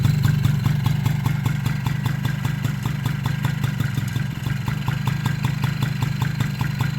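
A Honda Motocompo scooter's small engine idles steadily with the choke off, a close, even putter with light mechanical clatter running unbroken throughout.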